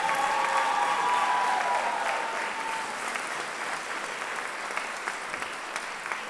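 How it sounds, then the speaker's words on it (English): A crowd applauds honor band students at a senior high school concert, full clapping at first that eases slightly but carries on throughout, with a faint tone sounding early beneath it. "Let's give all these students a round of applause."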